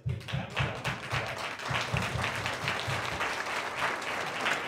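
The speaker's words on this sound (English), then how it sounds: "So let's give them a round of applause." Applause from an audience at a school Veterans Day tribute performance by second graders, with many hands clapping in a steady, dense wash that holds throughout.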